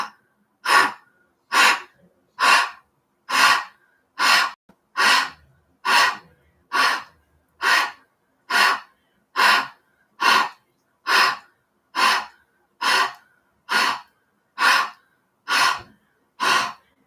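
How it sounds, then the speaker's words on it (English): Rapid rhythmic breathing in a deep-breathing exercise: about twenty sharp, evenly spaced breaths at close range, each a short forceful rush of air separated by silence, with no talking. "take a cleansing breath in, a full breath out"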